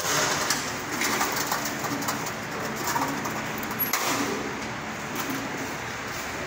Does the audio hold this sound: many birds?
yes